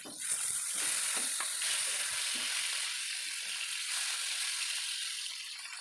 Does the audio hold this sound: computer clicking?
no